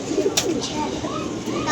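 Pigeons coo softly amid a busy backdrop of other birds and voices, the low cooing surfacing now and then through steady background murmur.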